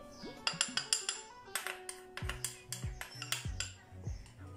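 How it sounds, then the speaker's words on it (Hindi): A spoon clinks and scrapes against a bowl while chicken chow mein ingredients are mixed with cornflour and black pepper, giving irregular close metallic taps and pings with a resonant ring, and no speech. "सारी चीज़ों को मिक्स कर लें।"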